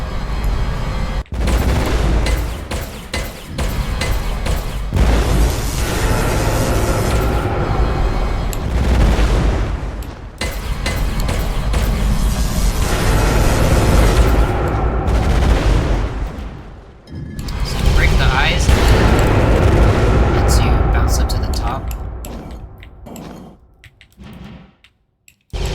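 Weapons fire and explosions fill a boss arena fight in the video game Voidborn: dense, loud bursts of shooting and booms run almost continuously, with short breaks, and no talk.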